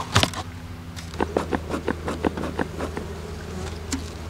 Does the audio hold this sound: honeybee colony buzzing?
yes